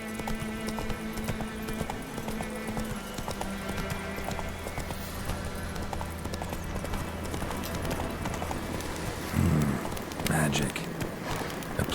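Roach the horse gallops in The Witcher 3, rapid steady clip-clop hoofbeats running continuously with a brief snort near the end, while someone talks over the game.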